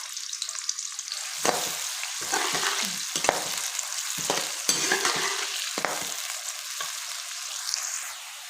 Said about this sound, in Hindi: ये हमने ऑयल में डाल दिया। इसको अब हमने अच्छी तरह ब्राउन कर लेना है।